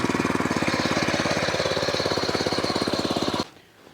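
A power weeder for weed removal runs with a loud, rapid, even engine chug close by, then cuts out abruptly near the end, leaving a quiet background.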